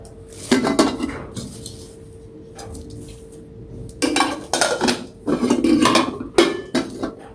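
A small new cooking pan is picked up and handled, giving clustered metallic clanks and clinks with brief rattles and pauses between them, close and fairly loud.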